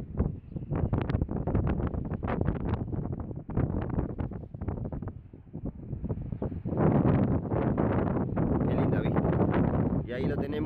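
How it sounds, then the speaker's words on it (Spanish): Strong wind on a beach at José Ignacio buffets the microphone in loud gusty bursts, roaring steadily through most of the stretch with brief lulls. "Hoy es un día ventoso."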